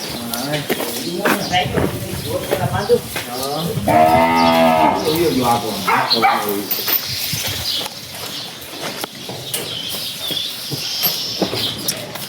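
Cattle on a farm with a long, loud moo rising near the middle, other lowing calls around it, and people talking nearby throughout.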